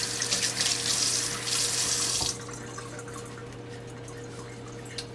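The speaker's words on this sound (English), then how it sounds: "Rinse my hand off." A hand is rinsed under a kitchen tap, with water splashing into the sink in a loud, steady stream. After about two seconds the flow shuts off, leaving a faint low hum and a few soft drips.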